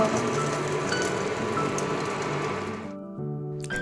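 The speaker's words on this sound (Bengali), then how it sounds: "চলো এবার এটাকে ভেজে নিই এটাকে এখন দিয়ে দিয়েছি পুরো একদম লো ফ্লেমে ভাজবো" Egg mixture frying in a pan on a low flame gives a steady, rain-like sizzle and crackle. It runs evenly, then cuts away abruptly near the end.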